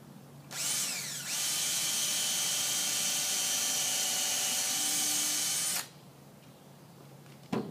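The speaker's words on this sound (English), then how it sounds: "another drill set up strictly for putting screws together" A power drill driving 2.5-inch screws into a cornhole board spins up and whines steadily for about five seconds, loud and close, then stops abruptly; a short mechanical click follows.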